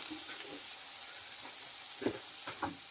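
Beaten egg poured into tuna masala in a hot pan sets off a steady, soft sizzle, with a few brief louder crackles and stirring noises and no talking.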